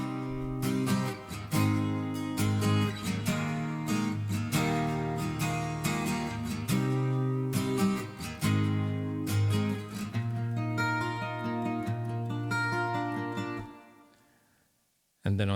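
Acoustic guitars strummed and arpeggiated through the pre-chorus of a cover, a steady full-bodied chordal wash ringing on without vocals before cutting off abruptly near the end.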